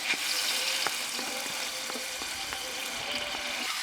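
Ghee heating in an idli steamer pot for ghee rice, a soft steady sizzle with scattered small pops and light metallic taps, close by and fairly quiet.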